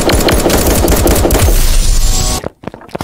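Rapid automatic gunfire from a Fortnite-like shooter game, 1v1 LOL, loud and dense bursts rattling continuously for over two seconds, then cutting off into a few scattered shots and thumps.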